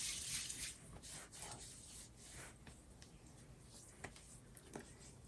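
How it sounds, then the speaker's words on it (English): Primer serum is rubbed between palms, giving a soft, continuous close-up swishing of skin on skin with a few faint pats, quiet and without talk. "So I just do a couple of pumps, rub it together."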